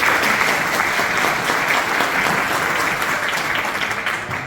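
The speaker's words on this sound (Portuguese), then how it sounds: "Uma salva de palmas para a nossa mesa diretora." An audience at a Rotary Club meeting in Suzano applauds the board table, a dense, steady burst of clapping from a room full of people that fades slightly toward the end.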